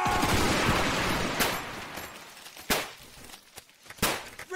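Rifle volleys ring out on command in a Zulu Wars battle game, a few sharp, fairly distant cracks spaced irregularly over a rustling, shuffling background.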